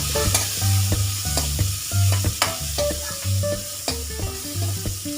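Tomatoes frying with green chilies, cinnamon and cloves in a pot for urad dal, stirred with a utensil that clanks and scrapes repeatedly against the metal over a continuous sizzle, close and clear with no speech.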